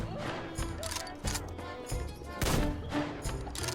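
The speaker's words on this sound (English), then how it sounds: "Maybe I can try out my new sniper rifle." Sniper rifle fire in the shooter game Metro Exodus, a few sharp cracks spaced out over a busy game soundscape with some background sound underneath.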